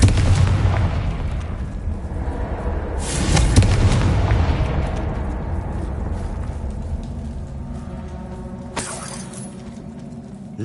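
In a Hogwarts video game, a Confringo spell sets off an explosion. A heavy boom and rumble opens the clip, with a second blast around four seconds, then debris crackles and fades, ending in a sharp crack near the end.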